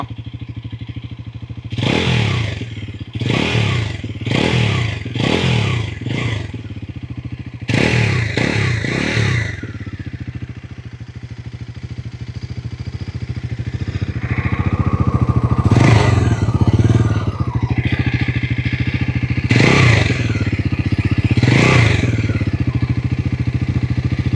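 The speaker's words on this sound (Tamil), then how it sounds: "அதனால தான் இந்த தம்பிங் சவுண்ட் வந்து இந்த மாதிரி வருது த்ராட்டில் பண்ணி பார்க்கலாமா" A Bajaj Pulsar NS400Z motorcycle exhaust thumps as the throttle is blipped in quick clusters of revs, then a steadier idle rumble with a few more sharp throttle bursts, close and loud.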